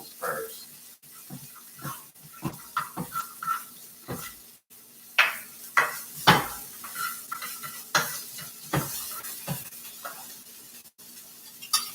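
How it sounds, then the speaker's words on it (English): Eggs and sautéed vegetables being stirred in a hot pan for a veggie omelet, with repeated scraping strokes over a soft sizzle, close and clear, in a kitchen. "stirring up my eggs here"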